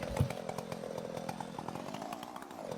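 A lawn mower engine drones steadily in the farming game Farming Simulator 19, a buzzing, rattly motor running continuously at a moderate level with no voices over it.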